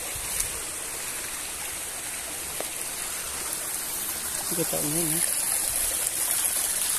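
A countryside stream of cold water flowing and trickling steadily nearby, a constant hiss of running water with a person speaking briefly over it.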